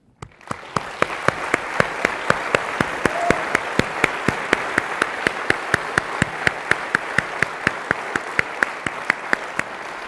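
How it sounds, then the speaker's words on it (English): A conference audience at DrupalCon Munich 2012 applauds Drupal contributors, and the steady, dense clapping fills the room for the full stretch. Sharp, evenly spaced clicks tick through the applause. "So I'd like to pause and give a huge round of applause to over 600 contributors who've contributed to Drupal so far."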